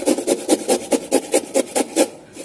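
A washed, peeled carrot is shredded by hand for fried snacks, giving about eleven steady, evenly spaced rasping strokes, close and clear, with no talking.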